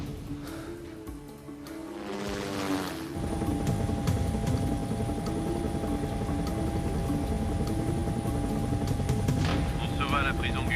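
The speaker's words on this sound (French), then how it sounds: "Prends l'hélicoptère s'il le faut." Helicopter flying in an action film scene, its steady rotor and engine drone rising to a loud, continuous roar that fills the whole stretch, with a whine above and broad rumble below.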